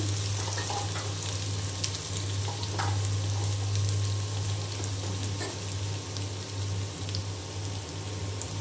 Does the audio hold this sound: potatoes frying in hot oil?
yes